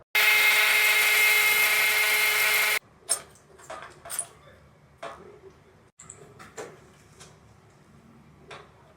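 A power drill drives screws while a motorized retractable screen is assembled, a loud steady whine for about three seconds, then scattered clicks and handling knocks.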